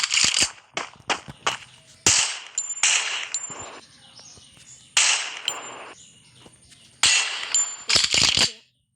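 Rapid bursts of gunfire from the Free Fire mobile shooter game, fired in clusters of sharp cracks separated by short pauses, with faint metallic pings and brief quiet gaps between volleys.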